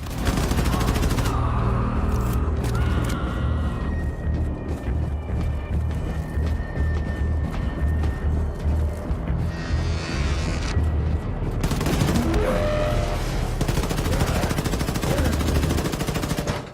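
Gunfire in the video game Wolfenstein II: The New Colossus: loud, dense bursts of automatic fire and blasts run almost continuously, with a brief lull near the middle.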